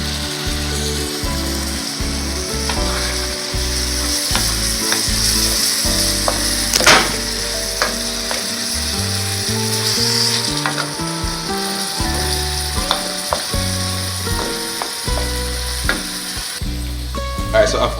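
Asian stir-fry with chili garlic sauce sizzling loudly in a hot wok, with steady frying hiss and repeated metallic scrapes and clanks of stirring throughout, no talking.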